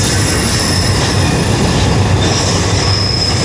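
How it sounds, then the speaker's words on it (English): A mainline train rumbles steadily across a bridge, loud and continuous, with wheel squeal and rail noise sustained throughout and no voices. "a mainline train, probably a mile an hour, going past on the other bridge"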